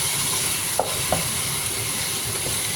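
Chicken apritada cooking in a pan with tomato paste stirred in, giving a steady, even sizzle with two soft utensil taps near the start.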